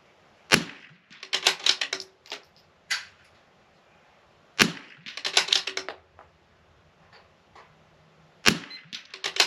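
Rifle shots ringing out at steel targets during an NRL22 precision rimfire course of fire, three sharp reports spaced a few seconds apart, each followed by bursts of rapid clicking and rattling.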